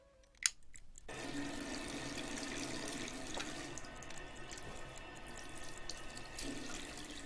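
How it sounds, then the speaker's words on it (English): After a brief click, a tap opens and water runs steadily into a sink to wet a flannel for washing a face, a close, continuous hiss lasting to the end. "So he ran enough water to wet his flannel and used that to wash his face."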